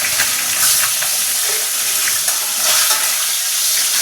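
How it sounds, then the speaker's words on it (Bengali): Panch phoron with dried and green chillies sizzling hard in hot oil, a loud continuous frying hiss with crackle close by, no voices. "অল্প একটু পাঁচ ফোড়ন দেবো, শুকনো লঙ্কা আর কাঁচা লঙ্কা একসঙ্গে ফোড়ন দিয়ে দেবো"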